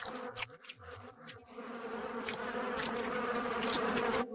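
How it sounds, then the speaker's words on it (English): A disturbed underground hornet nest that a honey badger digs into releases a dense, loud swarm of angry buzzing that builds and holds steady throughout. "the honey badger mom discovers an underground treasure. A hornet's nest."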